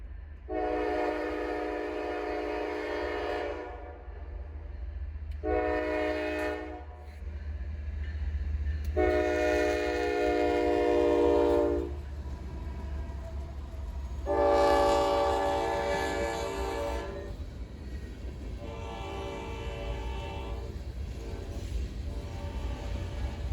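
A train running along a street rumbles steadily past while its horn sounds in several long blasts, loud and fairly close, with no talking.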